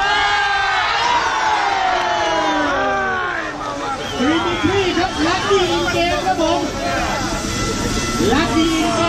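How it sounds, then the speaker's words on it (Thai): Crowd at a beach football match in Pattaya sends up a continuous roar of cheering and chatter, swelling in waves beneath a loud, excited commentator speaking throughout. "มีแฟนคลับมาเชียร์เยอะครับผมเชียร์ทั้งสนามนะ"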